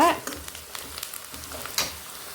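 Onions sautéing in oil with turmeric and salt for raw mango rice, a soft steady sizzle with a few light stirring scrapes, close and fairly quiet, no voices.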